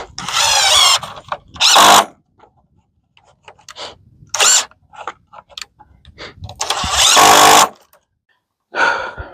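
Loud bursts from a power drill boring into hardwood pallet wood for a shed build, several whining runs of one to two seconds each, separated by quieter clicks and handling noises.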